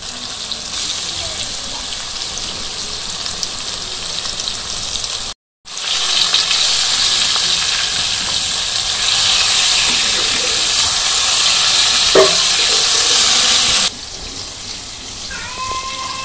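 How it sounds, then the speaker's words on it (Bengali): Fish frying in hot oil in a wok in a simple village kitchen, a loud continuous sizzle and hiss with a brief break, then slightly quieter bubbling toward the end. "মাছ ভাজা হয়ে গেছে, নামিয়ে নেই।"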